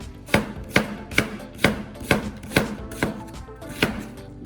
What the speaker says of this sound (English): That's the way we're gonna cut the onion.